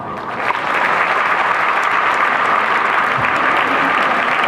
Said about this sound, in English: And please give a proud applause to your parents.